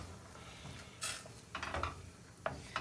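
Quiet stirring of garam masala, turmeric, garlic powder and salt into a chicken stew in a pot, with a few soft scrapes and spoon clinks against the pan, close and low in level.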